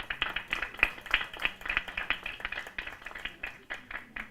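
Audience clapping at a national constitutional law moot court competition, a scattered run of claps from a modest crowd in a hall, steady and moderately loud for about four seconds.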